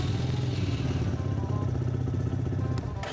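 A motorcycle engine fires up after repair work with its battery reconnected and fairings, windshield and mirrors refitted, settling into a loud, steady idle with a rhythmic low rumble and light mechanical clatter throughout.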